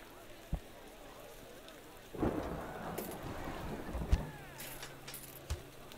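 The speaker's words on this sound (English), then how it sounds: "Can't believe how often it rains in this desert." Steady rain patters in a Parkitect theme-park game, a continuous soft hiss with a low rumble of thunder swelling partway through and a few sharper knocks, moderately quiet with no speech.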